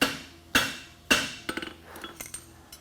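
A blacksmith's hammer rings against a horseshoe on the anvil at a farriers' championship, with three sharp, evenly spaced strikes followed by a quicker series of lighter taps, close and clear.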